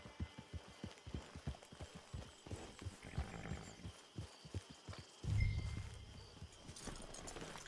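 Horse hooves clop in an irregular rhythm across open ground in the Red Dead Online western game, fairly close, with a brief louder low thump partway through.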